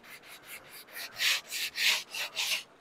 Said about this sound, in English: if it sands really easy with this, it's probably got to come off